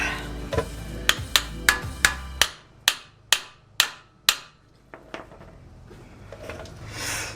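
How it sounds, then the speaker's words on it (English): A brass hammer strikes metal about a dozen times in a steady rhythm during car coilover and control arm work, each sharp ringing clank decaying quickly, the blows growing fainter toward the end. "brass hammer"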